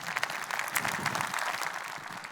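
An audience at a chamber of commerce morning event breaks into steady, dense applause, a continuous wash of many hands clapping that fills the room at even loudness throughout.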